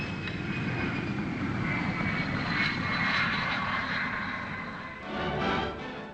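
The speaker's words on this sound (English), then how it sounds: "Coming in to land low and fast, the pilot uses a tail parachute to act as a brake." Flying Triangle experimental aircraft coming in low and fast to land at Farnborough in 1950, braking with a tail parachute; a steady, broad engine roar with a faint whine, swelling near the end.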